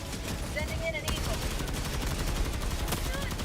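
Rapid gunfire and blasts crackle through a video game battle, a dense continuous stream of shots with scattered sharper bangs, heard under faint game sound effects.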